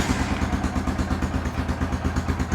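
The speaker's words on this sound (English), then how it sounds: "Cleans up pretty good for a 1996 ATV, doesn't it? And it runs just like it looks." A 1996 ATV engine idles close by with a steady, lumpy putter and rhythmic mechanical clatter, loud and unbroken throughout.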